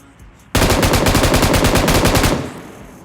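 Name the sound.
gunfire in the video game PUBG Mobile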